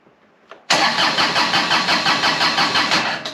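A John Deere X758 diesel tractor engine cranks with a quick rhythmic chug, then rumbles on loud and close in steady pulsing beats.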